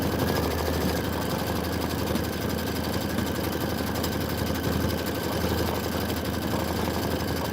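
A sewing machine runs at full speed stitching a quilted snowman block for a Kimberbell Let it Snow pillow, giving a steady, close, continuous motor drone with a fast, even rattle throughout.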